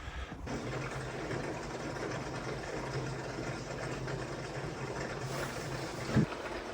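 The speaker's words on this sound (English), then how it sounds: "let's throw some gas in the sucker and get her fired up" A Yamaha Exciter 440 jet boat engine runs at a steady, fairly quiet idle with a continuous low drone. A brief knock is heard near the end.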